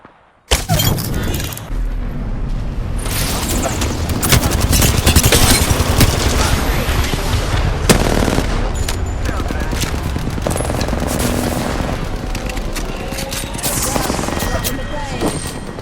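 Sustained automatic gunfire rattles through a battle royale video game, dense bursts of shots and impacts layered over constant loud battle noise, with occasional voices in the background.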